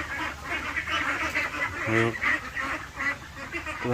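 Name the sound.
ducks quacking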